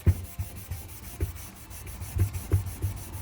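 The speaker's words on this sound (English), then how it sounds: "grab our Scotch-Brite, and we're gonna go and scuff up our inner sheave" A Scotch-Brite pad scuffs the inner sheave face of a Ski-Doo P-drive clutch. Quiet, close rubbing strokes go back and forth in an uneven rhythm, with a few sharper scrapes standing out.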